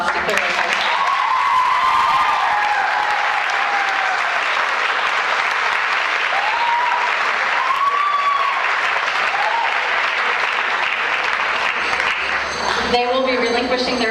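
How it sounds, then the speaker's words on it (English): A crowd at an Academic Decathlon awards event gives sustained, loud applause for Clear Lake High, with whistles and cheers rising over the clapping and voices near the end. "So please give another round of applause to Clear Lake High."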